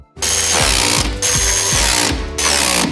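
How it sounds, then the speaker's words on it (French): A ratchet tightens the upper and lower shock absorber bolts on a crash-damaged BMW M3 under repair. The fast, loud, close-up clicking runs in three long bursts separated by brief pauses. "à serrer les boulons, ceux du bas ainsi que ceux du haut"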